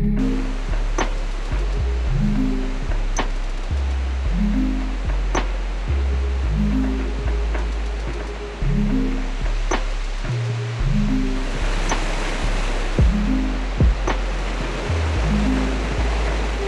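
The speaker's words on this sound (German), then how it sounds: "Darum gehen wir jetzt einen Wasserfall anschauen." Steady, broad rushing roar of a waterfall in Bosnia, continuous and fairly loud, with a regular low pulsing thump repeating every second or so underneath and no talk.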